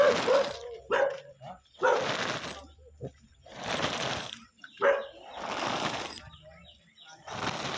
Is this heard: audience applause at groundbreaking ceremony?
no